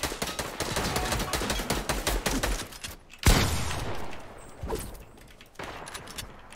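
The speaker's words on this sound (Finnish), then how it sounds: "Mistä yksi ampuu meitä?" Gunfire in a Fortnite match: rapid sustained automatic fire, then a sharp loud blast, a lull and a few more scattered shots.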